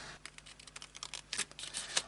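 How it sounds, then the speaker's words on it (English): Small detail scissors snipping out printed paper words for a layered owl card, a quick run of light, close snips and paper rustles with no talking. "I'm going to cut those out with a pair of small detail scissors."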